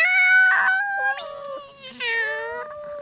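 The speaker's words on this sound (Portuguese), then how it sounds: "o gato" A cat in a cartoon animal tale lets out a couple of drawn-out, wavering meows, close and fairly soft, with no other voices.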